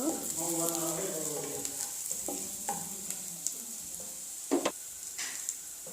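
A small amount of oil fries in a wok with a continuous bright sizzle, close and even throughout, a voice speaking over the opening moments and a few light clicks later.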